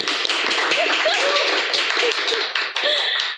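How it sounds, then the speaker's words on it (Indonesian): A small group at a podcast recording for the Kota Batu Duta Genre selection claps in quick, close, uneven bursts, with voices murmuring and calling out underneath. "Boleh tepuk tangan dulu."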